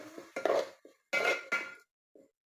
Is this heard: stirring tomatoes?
yes